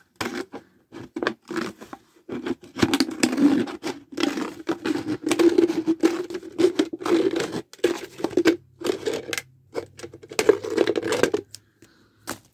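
Cutting around a plastic winter sowing container: a close series of quick, irregular snips and crackling plastic clicks, with brief pauses between cuts and no talk.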